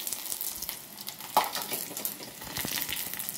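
Dry red chillies, garlic, mustard seeds and cumin crackle and sizzle as they temper in hot oil, with quiet popping and a sharp spatter partway through, fairly soft and close.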